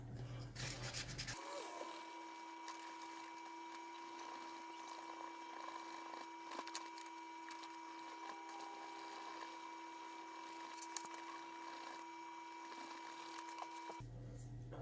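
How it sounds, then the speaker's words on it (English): Wet sanding with 1200-grit paper and water on a Ford Mondeo mk3 instrument cluster lens to remove sticky tint residue: a steady, faint rubbing hiss that runs unbroken for most of the stretch, with no voices. "So using your sandpaper, you just want to wet it, keep it wet and moist."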